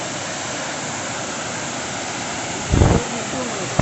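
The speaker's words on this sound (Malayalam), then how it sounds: "നമ്മൾ ആ വെള്ളച്ചാട്ടത്തിൻ്റെ ഏറ്റവും തൊട്ടടുത്തേക്ക് എത്തുന്നതാണ്" Punnayar waterfall makes a steady, rushing roar as the listener walks toward it. The continuous wash of falling water is briefly broken near the end by a louder, low burst close to the microphone.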